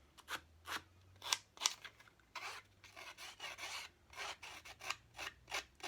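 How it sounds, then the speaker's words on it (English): Scissor blades scrape along paper edges to rough them up, making a series of quiet, dry, scratchy strokes. The strokes come in an irregular rhythm, some short and some drawn out, close by and with no voices. "I'm just taking my scissors and I'm just roughing up the paper a little bit."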